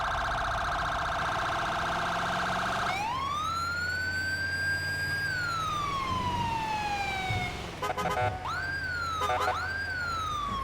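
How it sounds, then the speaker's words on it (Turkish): An ambulance siren in GTA 5 wails loudly and nearby, a sustained tone sweeping up into a long rising-falling howl, then switching to short rapid yelps toward the end. "Ambulans geliyor yol ver yol ver yol ver."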